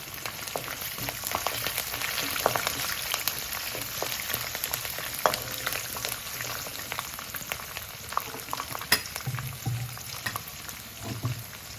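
Green chillies, sliced onions and two or three dry chillies fry in hot oil, a dense continuous crackling sizzle with scattered pops and occasional stirring scrapes, fairly close and steady throughout.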